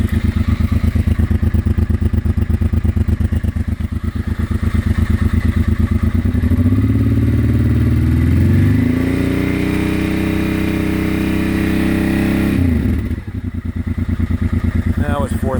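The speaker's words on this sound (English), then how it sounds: "1989 Honda Transalp with a modified stock exhaust. It's kind of warmed up." A warmed-up 1989 Honda Transalp motorcycle with a modified stock exhaust idles with a steady close thump, then revs up and back down in a rising and falling engine sweep, with a second brief blip near the end.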